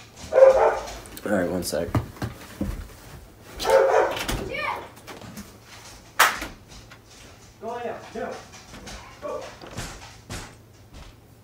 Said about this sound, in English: my dog barks way too fucking much